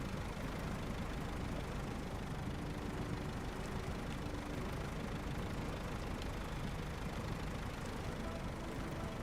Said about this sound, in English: This thing sounds like it has a lawnmower engine in it.